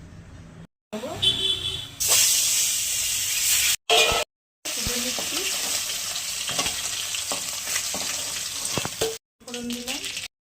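Bhola fish fries in white oil in a wok, a loud, steady sizzle and spatter broken by short silent cuts, with stirring clatter and some brief talk.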